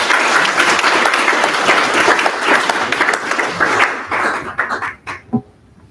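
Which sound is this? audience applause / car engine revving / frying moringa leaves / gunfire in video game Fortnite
audience applause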